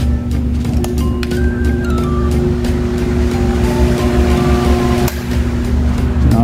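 An industrial fan runs on its second speed setting, giving a loud, steady, continuous rush of air over a low mechanical hum that holds without a break.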